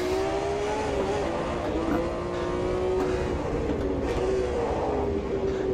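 Race car engine in Automobilista 2 on a wet track, a steady loud drone with gradual pitch rises and dips as the car runs on, another car's engine joining in the background.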